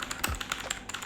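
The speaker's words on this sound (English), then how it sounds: "this is a normal Automu blue switch mechanical keyboard" Quick, clicky keystrokes on a Leaven K550 mechanical keyboard with blue switches, a rapid run of crisp, close taps in an uneven typing rhythm, alone without speech.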